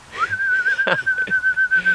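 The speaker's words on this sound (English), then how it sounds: "I just whistle a little bit for" Someone whistles a sustained clear steady note nearby, with a short sharp noise and faint background sounds breaking in partway through.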